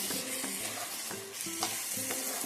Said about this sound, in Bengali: তো এর মধ্যে আমি দিয়ে দেবো এবার একটু হলুদ। হাফ চামচেরও কম একটু হলুদ দিলাম।